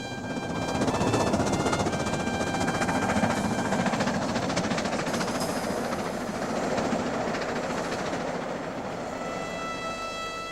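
The steam locomotive Duchess of Hamilton works along the Settle to Carlisle Railway, a loud, continuous roar of exhaust and rolling wheels with steady rail clatter, heard close and without voices.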